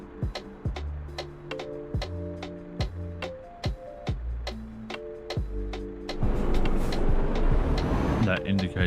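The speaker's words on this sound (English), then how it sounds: "That indicator sound reminds me of my grandparents' old car." Turn indicator in Euro Truck Simulator 2 ticking in a steady, regular rhythm with repeated sharp clicks, laid over a background of game music and engine hum that swells louder toward the end.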